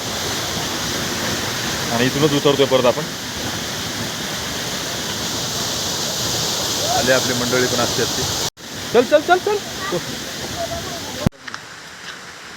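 Rushing waterfall on Raigad fort in heavy monsoon rain, a steady loud roar throughout with people talking over it and brief cuts near the end.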